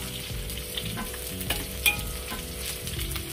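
Chopped garlic and shallots fry in a pan with oil, sizzling steadily throughout, with a few scrapes and clinks of stirring close by and no talking.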